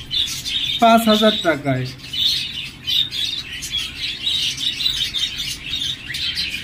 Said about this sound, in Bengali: এটি হলো গ্রিন ফিশার লাভবার্ড পাখি